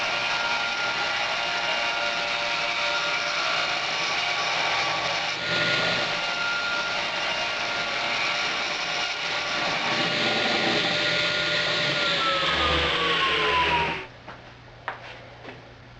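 A power saw rips plywood into strips with a sustained whining cut that holds steady for about fourteen seconds. The pitch then drops as the blade spins down, followed by a few faint knocks.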